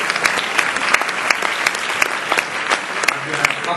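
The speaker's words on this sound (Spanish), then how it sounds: "se aplaude a los finalistas y ganadores" Steady applause from an audience at a national marketing awards ceremony, honoring finalists and winners, with dense continuous clapping and a few sharper claps standing out near the front.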